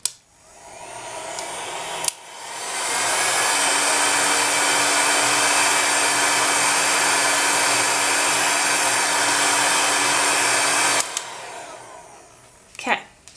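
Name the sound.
heat gun running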